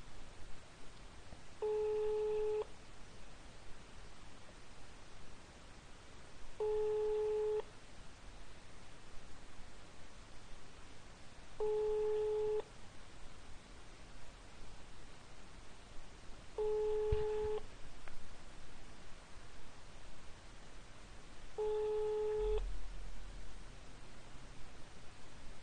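Ringback tone of an outgoing cold sales call, five evenly spaced long beeps roughly every five seconds over a steady hiss of line noise, moderately loud and alone.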